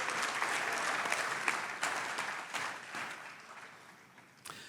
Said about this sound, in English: Let's give Will a warm round of applause and welcome